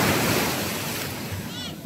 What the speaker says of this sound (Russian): бушующие волны. Море просто пугает. Просто все пенится.